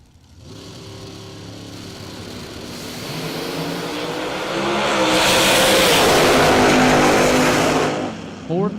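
A Stein Tire drag racing car makes its run at a drag strip, its engine note building into a loud, sustained roar that peaks near the finish and then drops away, with a commentator talking over it.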